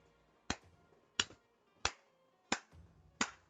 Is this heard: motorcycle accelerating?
no